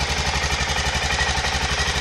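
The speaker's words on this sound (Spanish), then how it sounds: "El motor suena muy redondo. Mantiene muy bien el ralentí." An Aprilia Pegaso 650 motorcycle engine idles steadily up close, with a loud, even, rounded thump and no change in revs.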